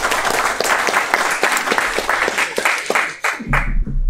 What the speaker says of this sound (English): So round of applause to them.